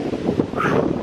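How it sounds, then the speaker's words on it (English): Strong wind buffets the microphone at a lake shore, a loud, continuous rough rumble with gusting swells. "It's really windy right now"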